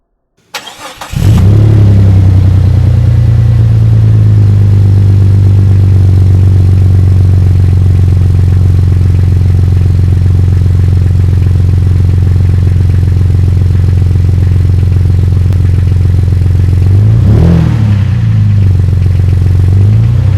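A Jeep XJ with a Banks Power Monster exhaust fires up after a short crank and settles into a loud, deep, steady idle close by, with a brief blip of revs near the end.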